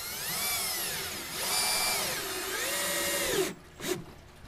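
Power drill driving long hex-head screws into scrap wood for a cart, its motor whining up and down in two long runs, then a brief stop and a short final burst.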